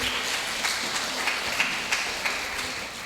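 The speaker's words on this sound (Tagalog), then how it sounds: "palakpakan ulit natin yung Kinder Faith" A church congregation applauds the Kinder Faith children at a dawn Simbang Gabi Mass, producing a steady wash of clapping from many hands in a reverberant hall, moderately loud and sustained with scattered sharper claps.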